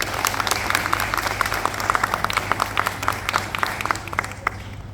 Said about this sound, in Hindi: मैं चाहूंगी अपने लिए एक बार जोरदार तालियां बजा दीजिए।